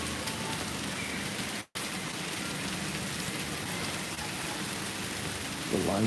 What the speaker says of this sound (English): ice rain coming down.